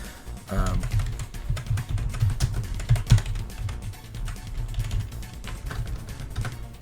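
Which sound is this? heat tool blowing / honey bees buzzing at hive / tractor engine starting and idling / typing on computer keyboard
typing on computer keyboard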